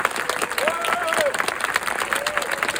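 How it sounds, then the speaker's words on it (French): An audience at an event applauds steadily, a dense wash of clapping with a crowd murmur and a voice speaking over it throughout. "Et un tonnerre d'applaudissements pour François Détrac."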